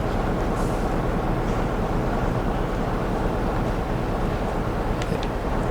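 A train runs steadily in Train Sim World 3 on Xbox Series X, a continuous low rumbling roar of wheels and motion with wind-like noise and no clear breaks, held at an even, moderate level throughout.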